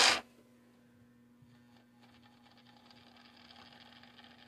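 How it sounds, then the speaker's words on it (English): An old AC motor in an O scale Pittman/Bowser Brill model streetcar runs with a faint, steady electric hum and light mechanical whir after a brief sharp start, quiet and close. "That's an AC motor."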